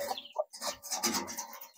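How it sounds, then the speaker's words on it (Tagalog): Farmyard chickens in the Philippine countryside cluck in a quick, close cluster of short, busy calls. "Yan ang mga manok namin."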